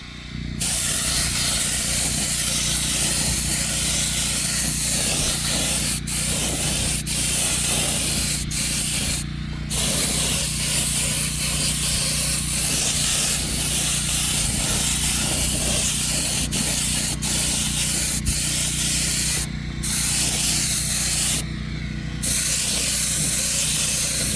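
A spray gun paints a Humvee H1 hood outdoors in the wind, a continuous loud hissing spray broken by several short pauses between passes.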